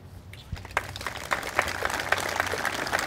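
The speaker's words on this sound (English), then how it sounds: "would you please raise your hand and take a round of applause?" An audience breaks into applause for volunteers at a veterans monument event, starting from near quiet with scattered claps and building into steady, moderately distant clapping.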